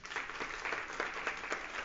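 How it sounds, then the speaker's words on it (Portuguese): An audience at a business book launch talk gives a fairly quiet round of applause, many hands clapping in a steady, slightly pulsing rhythm. "Uma salva de palmas, gente."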